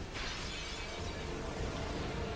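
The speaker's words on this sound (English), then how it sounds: "Screen even shatters" Glassy screen-shatter effect opening a battle in Final Fantasy X HD, a bright crackling burst that sweeps across the whole clip at steady loudness with no talking.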